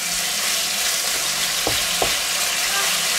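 Pork frying in a wok in a mix of butter, lard and oil, a loud continuous hiss and crackle with two brief clanks of a utensil stirring midway.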